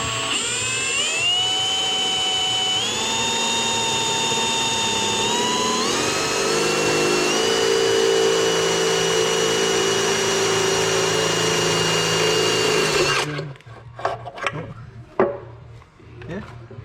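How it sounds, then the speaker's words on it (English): A power drill whines steadily at close range, its pitch stepping up and down as it bites through a metal oil pan on a Nissan 240SX, then stops abruptly, leaving scattered clunks and handling noise. "I think I'm gonna drill it from this side first."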